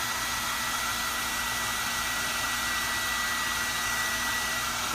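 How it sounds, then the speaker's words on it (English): A hair dryer runs steadily to dry a layer of paint on EVA foam, a loud constant whooshing roar with an even motor hum and no breaks or talk. "And a hair dryer is a great cheat. Instead of waiting 10 minutes, I wait like 10 seconds. So I'm going to quickly dry this."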